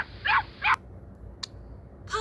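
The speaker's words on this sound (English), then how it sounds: "Puppy." A puppy gives a few short, high yips and barks, two close together and then a quick chirp and one more, loud and close against a quiet room.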